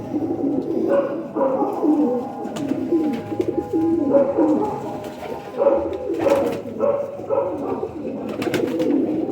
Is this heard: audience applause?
no